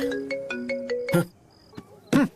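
A short electronic ringtone melody plays, a rising series of bright tones, followed by a couple of brief voice sounds.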